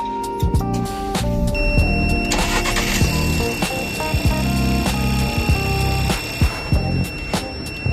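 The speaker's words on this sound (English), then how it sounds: "Press car ignition switch within 30s to start." A car engine, jump-started with an SPKSTAR SC25 supercapacitor jump starter, cranks and catches, settling into a steady idle with clicks and electronic beeps scattered over the running motor.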